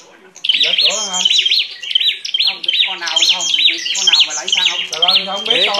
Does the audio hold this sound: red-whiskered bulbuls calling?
yes